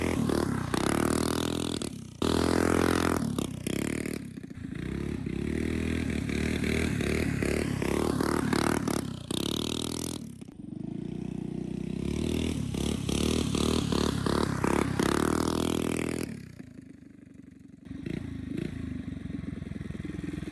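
A 20HP mini bike engine revs hard and loud through a wheelie attempt, rising and falling in long throttle surges with rattling, heard close, then dropping to a lower idle near the end.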